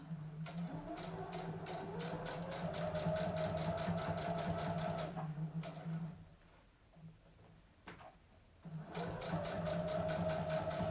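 A sewing machine topstitches bias binding on a dress in fast, rhythmic stitching runs, close and steady, pausing for a few seconds in the middle before resuming.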